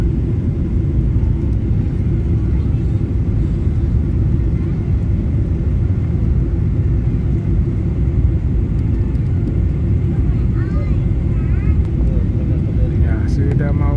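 Steady, loud airplane cabin rumble and engine whir during the approach to landing, constant throughout with no letup, under occasional faint voices.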